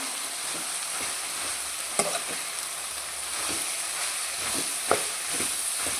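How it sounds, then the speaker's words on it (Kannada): Cabbage palya being stirred in a frying pan: a steady sizzle with scrapes and clinks from the spoon against the pan at irregular intervals, close and fairly loud, with no one talking. "ಇದನ್ನು ಚೆನ್ನಾಗಿ ಮಿಕ್ಸ್ ಮಾಡ್ಕೊಳ್ಬೇಕಾಗುತ್ತೆ."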